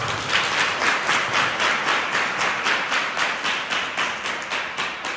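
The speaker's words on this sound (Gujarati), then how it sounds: "વગાડો જોરદાર તાળી એકવાર" A crowd of schoolgirls at a girls' school talk claps in a steady, quick rhythm, loud and close, sustained without any talking.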